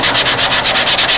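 Sandpaper rubbing over a Brodak dope finish on a model airplane wing, a close, loud, steady rhythmic back-and-forth scraping of about eight strokes in quick succession, alone.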